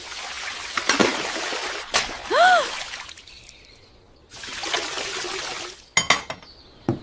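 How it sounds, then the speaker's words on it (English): Tap water runs in bursts of hissing flow while dishes are washed, stopping and starting several times, with a brief squeak and clattering clicks near the end. "Wash the dishes."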